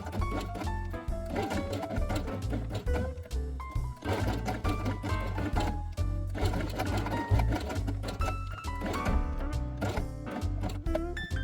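Felt sloth pieces for a quiet book page are stitched with brown thread on a sewing machine, a close, rapid, steady mechanical chatter that keeps running throughout with short pauses and changes in speed.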